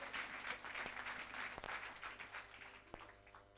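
A church congregation applauds in a steady, diffuse patter of many hands, sustained and fairly distant, with a few sharper claps standing out.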